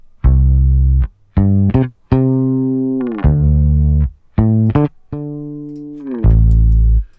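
A deep, loud bass line from a bass group bus equalized by Logic Pro's Mastering Assistant plays alone, with sustained low notes separated by short gaps in a steady rhythm.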